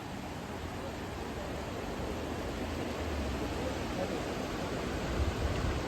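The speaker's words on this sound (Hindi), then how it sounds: "सिंधु रिवर जो है कलकल की आवाज़ के साथ में बह रही है" The Indus river rushing along in a continuous broadband roar, steady and fairly loud, with no breaks and a slight swell toward the end.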